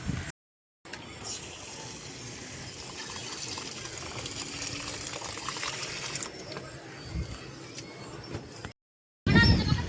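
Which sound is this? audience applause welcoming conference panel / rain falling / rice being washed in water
rice being washed in water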